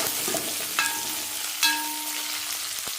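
Chopped onions sauté in a pan with a dense, close sizzle, broken by a couple of sharp spatula scrapes against the metal, no voices present.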